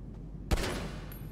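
A burst of gunfire in a role-play video game rings out against a van, one sharp loud crack followed by a short echoing rattle after a quiet moment, with no talking.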